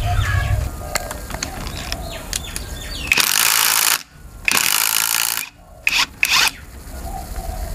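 An Ozito 215 Nm power tool removes four retaining bolts while a Lokka auto locker is fitted to a Toyota Prado. It gives three loud, close whirring bursts, separated by quieter scraping and clinking.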